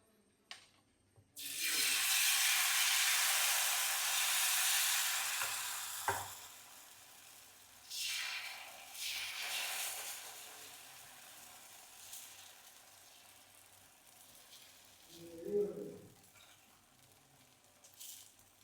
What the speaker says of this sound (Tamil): பாருங்கள், நம்ம இப்போ தோசை ஊற்றலாம்.